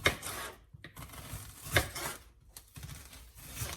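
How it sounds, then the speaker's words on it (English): A knife slices yellow onion on a cutting board for baked pork chops, with faint, irregular taps and soft scraping cuts close by. "So we're gonna slice this up."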